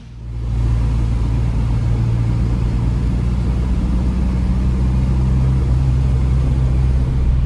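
A 1990 Toyota Corolla AE92 with a 4A-F engine drives along, its engine a loud, steady, low rumbling drone from the inside after a short fade in, with no talking.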